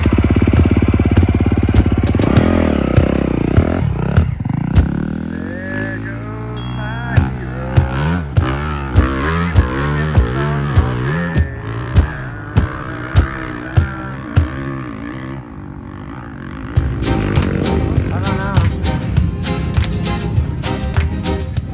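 A dirt bike engine revs and pulls away at Glen Helen's 24-hour endurance race, rising and falling in pitch through several gear changes with sharp throttle blips, loud and close throughout.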